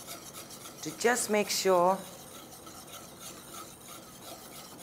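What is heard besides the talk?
whisk stirring gelatin into panna cotta mixture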